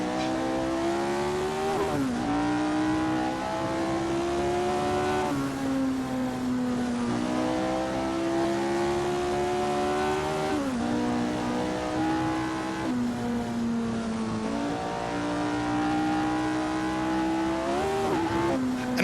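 Simulated car engine from a racing video game, played through a DIY motion simulator rig, drones steadily with rising and falling revs as gears shift, loud and continuous throughout with no talking.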